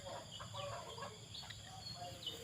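Black bantam hen with white chicks in a farmyard, soft clucks and peeps scattered faintly through steady background noise.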